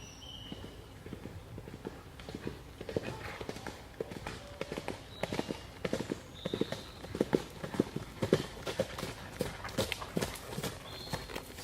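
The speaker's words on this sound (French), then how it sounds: "C'est le cheval qui t'étonne?" A horse's hooves clip-clop at a steady walking pace, close and fairly loud, with irregular sharp strikes continuing throughout and no voices.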